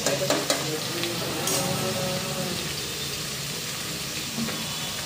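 Vegetables for pulao sizzle steadily in a hot pan while a spoon stirs them, with a few sharp utensil clinks near the start over the continuous frying hiss.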